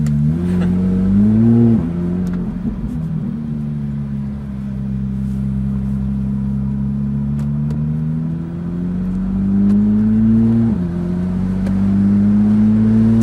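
A Porsche 911 GT3 RS engine revs nearby in a loud, sustained drone, its pitch rising and falling in smooth swells with brief dips before climbing again.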